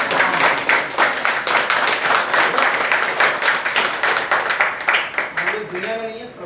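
An audience claps steadily and loudly at close range, a dense run of hand claps lasting several seconds before tapering off as a voice begins to speak at the end.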